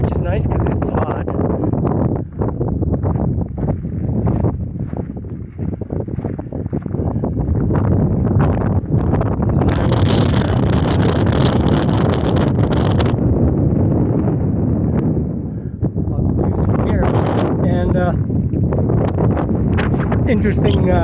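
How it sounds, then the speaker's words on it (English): Strong wind on Donner Pass, a mountain pass, buffeting the microphone in heavy gusting blasts that rise and fall, loud and close, with a person speaking intermittently underneath. "Pretty windy up here, which is nice because it's hot."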